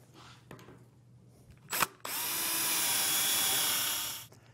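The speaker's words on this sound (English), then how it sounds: "I'm ready to pre-drill my holes and install this hardware" After a couple of quiet knocks, a power drill whirs briefly, then runs steadily for about two seconds pre-drilling holes in wood for bed rail hardware before stopping, close and clear.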